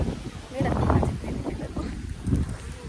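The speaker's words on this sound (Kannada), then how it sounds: "ಸಿಕ್ಕಾಪಟ್ಟೆ ಗಾಳಿ ಇದೆ" Strong gusting wind at a high vantage point buffets the microphone in heavy low rumbling bursts that rise and fall over the whole stretch, loud and close.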